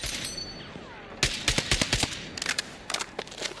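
Rapid bursts of automatic gunfire in Battlefield 6, sharp cracking shots in quick clusters separated by brief pauses, preceded by a faint mechanical ring.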